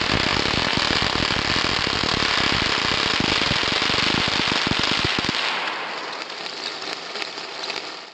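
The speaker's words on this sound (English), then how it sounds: "Laser popcorn." Popcorn popping as it is heated by an infrared laser, a loud, dense crackle of rapid pops that abruptly thins out, leaving a lighter hiss with a few isolated pops.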